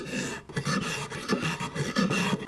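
Japanese hand plane (kanna) shaving the wooden body of another plane to flatten it, a close, steady raspy scraping in repeated strokes.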